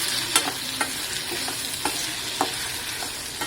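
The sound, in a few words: stir-frying ingredients in a pan for tamarind curry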